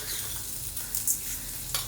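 Curry leaves crackling and sizzling in a teaspoon of hot oil, a close, steady fizzing hiss with small spitting pops throughout, no voices.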